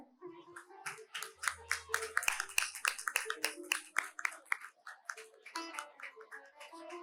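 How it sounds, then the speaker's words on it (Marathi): An audience claps for two singers at an Ashadhi Ekadashi abhang devotional program, producing scattered, uneven hand claps that rise and fall, with voices mixed in. "या दोन्ही गायकांसाठी सुद्धा सगळ्यांनी जोरदार टाळ्या वाजवायच्या आहेत."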